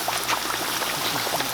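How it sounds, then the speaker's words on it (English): Potatoes fry in hot oil in a deep fryer, a dense, continuous bubbling hiss that stays loud and close without a break. "You can see the bubbling slowed down a little bit."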